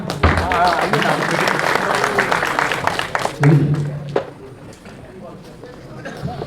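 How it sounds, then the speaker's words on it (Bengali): Applause at a pigeon club prize distribution ceremony, a crowd clapping loudly at first and then thinning to scattered claps, with people talking over it. "একবার জোরে হাততালি হয়ে যাক"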